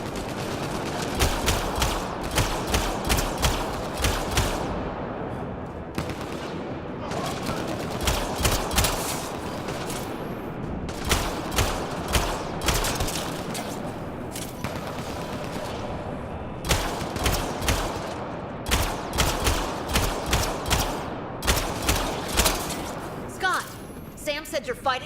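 A Mass Effect Andromeda firefight with rapid, sustained bursts of gunfire in repeated volleys, loud and close, broken by short pauses, while voices talk over the shooting.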